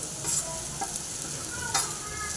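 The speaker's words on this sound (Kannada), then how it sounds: "ಹಾಕಿ ಚೆನ್ನಾಗಿ ಫ್ರೈ ಮಾಡ್ಕೊತಾ ಇದ್ದೀನಿ" Ground spices (turmeric, kasuri methi, garam masala and chili powder) fry for an egg paratha filling in a pan, giving a steady close sizzle broken by brief scraping stirs.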